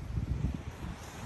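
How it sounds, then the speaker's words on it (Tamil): Strong wind blows during rain outdoors in Batticaloa, Sri Lanka, buffeting the microphone with a fairly faint, uneven low rumble of gusts and no voices. "தரமான மழை சரியான காற்று வேறு அடிக்குது"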